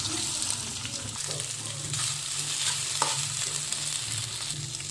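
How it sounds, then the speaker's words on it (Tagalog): Shrimp coated in ground pepper sizzle lightly in a frying pan, a steady close-up hiss with occasional stirring clicks over a low background hum. "And then we will slightly fry the shrimp."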